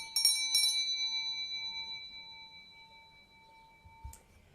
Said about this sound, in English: I keep close by my Tibetan bell.